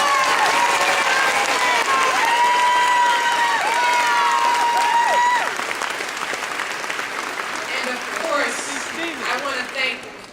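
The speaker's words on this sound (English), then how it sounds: "I want to make sure we give them a round of applause" A crowd at a campaign rally in Fort Wayne, Indiana breaks into loud, sustained applause and cheering that fills the space for several seconds, then gradually thins out with some shouts and voices.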